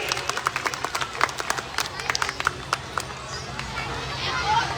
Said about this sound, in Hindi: तो एक बार जोरदार तालियां छवि राजा के लिए भी।